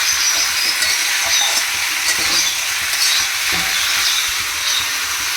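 Desi chicken pieces frying with onions in a pan, sizzling steadily and loudly while being stirred, with scraping stir strokes throughout and no talking.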